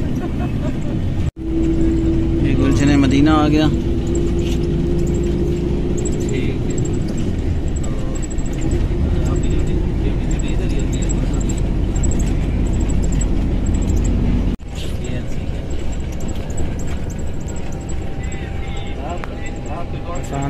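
Inside a passenger wagon van moving on the road to Lahore, a steady loud engine and road rumble fills the cabin throughout, with someone speaking briefly over it.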